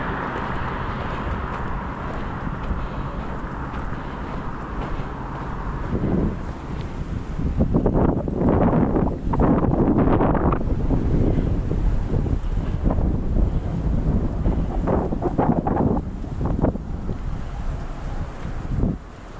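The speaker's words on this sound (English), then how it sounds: "It's windy" Wind buffets the microphone outdoors on a walk beside a pond, in loud, rumbling gusts that swell and fade, with a steady blustery roar throughout and no voices.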